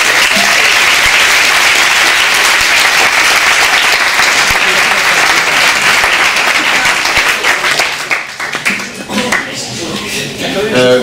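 A contest-final audience bursts into loud, dense applause for Stéphane Ancel at a French public-speaking competition, sustained clapping near and full for about eight seconds before thinning out into scattered claps.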